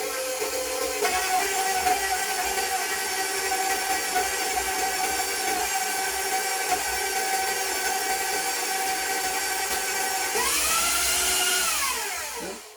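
Electric stand mixer blending cinnamon-spiced waffle cookie batter, a steady whining motor hum with tonal harmonics running continuously, then rising in pitch and intensity as the speed increases before cutting off.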